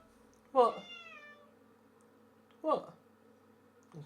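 A house cat meows twice, close and fairly loud, each a drawn-out rising call a couple of seconds apart, with the start of a third at the end.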